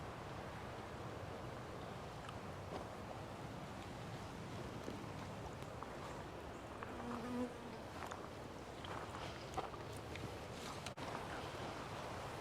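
Bees buzz faintly among flowers in a Florida state park garden, a soft continuous drone set against outdoor ambience with occasional brief rustles, no talk.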